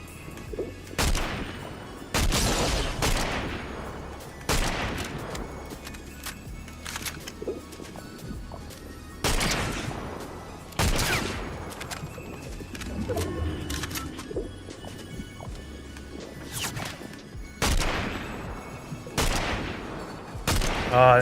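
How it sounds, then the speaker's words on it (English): Repeated gunshots crack in a shooting video game, single loud reports spaced a few seconds apart, each with a short echoing tail over a low ambient rumble. "Where's that other shot coming from? Was that his buddy shooting me?"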